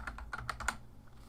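Several quick keystrokes clack on a computer keyboard as a group name is typed into a Windows Server dialog, close and fairly quiet, five or six taps in under a second, then stillness.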